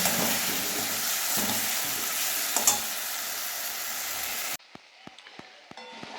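Spice paste and tomato for koi fish curry with small potatoes and cumin sizzle loudly and steadily in a pan, then cut abruptly to quieter scattered clinks and scrapes, close with no talk.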